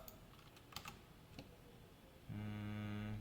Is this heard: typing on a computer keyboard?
yes